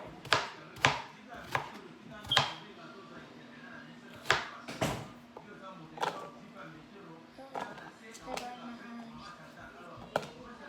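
A knife chops tomatoes on a cutting board in a home kitchen, giving about a dozen irregular, crisp thuds close by, with low talking underneath.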